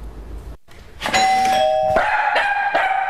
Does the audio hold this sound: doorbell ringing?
yes